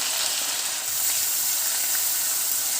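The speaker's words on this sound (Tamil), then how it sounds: "வரமிளகாய் போட்டு வதக்கிக்கோங்க." Dried red chillies and a generous handful of thavasi keerai greens sizzle steadily in a hot pan, a dense continuous frying hiss with no talk, close and even throughout.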